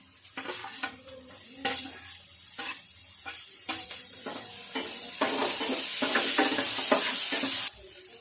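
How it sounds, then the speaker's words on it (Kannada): Tomato drops into a hot pan for poha, bringing a burst of sizzling and frying hiss with stirring scrapes and light clinks of a utensil against the pan, growing louder and steadier near the end. "ಈಗ ಟೊಮೆಟೊ ಹಾಕೊಂತೇನ್ರಿ."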